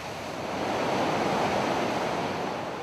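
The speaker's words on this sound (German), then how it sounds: "Hier schießen rund 800 Millionen Liter Wasser in der Minute durch das enge Felsental." Large volumes of river water roar through the narrow rock gorge of Hell's Gate in western Canada, a steady, loud, broadband rush that holds constant throughout with no voices.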